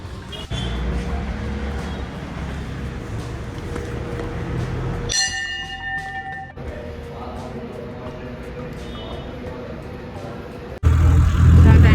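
Road traffic near a temple, a continuous rumble of passing vehicles with a bell-like ringing tone in the middle and a louder burst near the end, with people talking over it.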